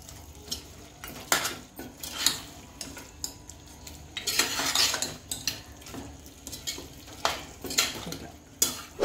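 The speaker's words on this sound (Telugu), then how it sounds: "మనం ఒక్కటే ఇట్లా మంచిగా ఫ్రై చేసేది" Mutton gravy frying in a pan while being stirred, with repeated clinks and scrapes of a spoon against the pan over a soft sizzle, close and fairly quiet, no talking.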